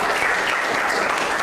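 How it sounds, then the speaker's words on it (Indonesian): Applause from a class of students fills the room, a steady dense patter of clapping hands throughout with no pauses and no talk over it. "Oke, tepuk tangan"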